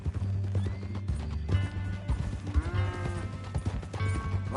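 In Red Dead Redemption 2, a horse whinnies several times over a continuous rhythmic clip-clop of hooves, close and fairly loud with other game sounds layered underneath.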